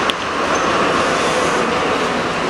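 A Melbourne tram rolls past at a station near Southern Cross, a loud, steady rumbling roar of wheels on rail filling the whole stretch, with a faint high squeal riding on top and no speech.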